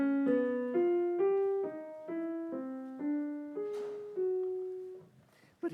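A Schoenberg twelve-tone row sounds as a clear, close sequence of twelve separate single piano-like notes, compressed within one octave and played one after another at a moderate, even pace with no talking.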